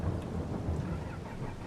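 Rain and rolling thunder in the Farming Simulator 22 video game, a low, faint rumble under a steady wash of falling rain, heard alone without speech.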